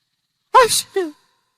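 A person mimics a sneeze with a sharp breathy burst followed by a short voiced tail, a single close imitation in an otherwise silent room.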